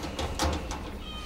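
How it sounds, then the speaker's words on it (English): A cat meows a few times in short, close calls, with faint background hum and no talking. "little kitties, little cats"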